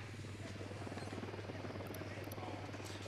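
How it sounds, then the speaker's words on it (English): A recon drone in the video game Ghost Recon whirs steadily in flight, a continuous buzzing rotor hum with a low drone underneath, faint and unbroken for about three seconds. "Drone is airborne."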